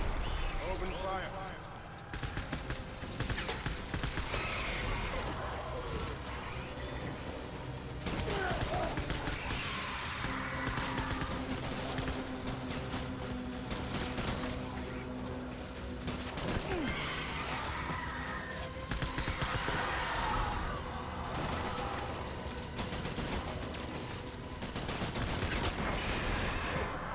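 Gunfire erupts in repeated loud bursts in the video game Death Stranding, layered over a dense, steady bed of game noise and music, with voices talking throughout.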